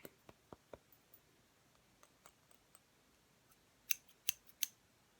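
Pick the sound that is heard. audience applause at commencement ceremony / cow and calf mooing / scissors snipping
scissors snipping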